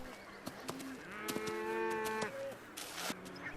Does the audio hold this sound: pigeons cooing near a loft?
no